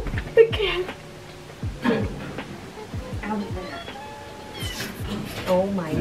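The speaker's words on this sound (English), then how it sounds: "Oh, the cat." A house cat gives several short meows close by, mixed in with people talking in an indoor room.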